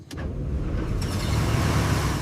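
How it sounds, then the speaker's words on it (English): Restored car's engine runs on a muddy road, a steady close low rumble building slightly in loudness after a brief click at the start. "Listen to that engine."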